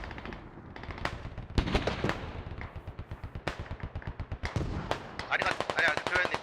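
Video game Squad combat with mortar fire and gunfire: rapid bursts of automatic fire and heavy booming impacts, some crisp and near, others farther off, with casters talking over the battle.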